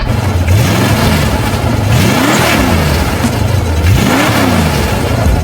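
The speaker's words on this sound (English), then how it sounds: "Can you give us some revs in your old Ford GT40?" An old Ford GT40 race car engine revs up in repeated rising and falling bursts, loud and close, with a low rumble between the blips.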